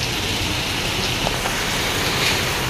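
Heavy rain pours down steadily in an even, dense hiss with no pauses, close and loud throughout, with no voices present.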